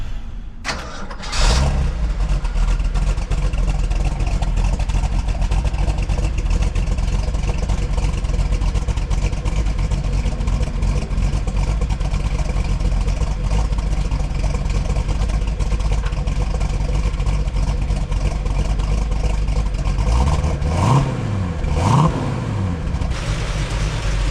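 A 1969 Mustang Mach 1 with a 428 R-Code V8 fires up and settles into a loud, steady rumble, then revs harder as the car pulls away near the end.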